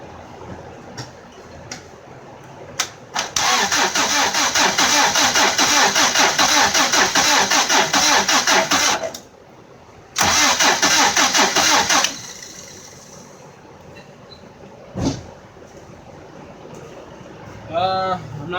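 A Honda CRX with a B18 engine cranks repeatedly in long, loud, close bursts of rapid starter whirring that fail to catch, with short pauses between attempts and a faint click near the end.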